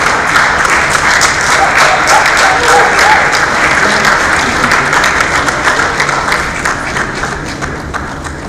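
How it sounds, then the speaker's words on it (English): At a graduation ceremony in Dubai, a large audience gives sustained, loud applause, dense clapping that continues steadily and tapers slightly toward the end. "let's welcome her on stage with another round of applause, Ms. Carla Lequinto"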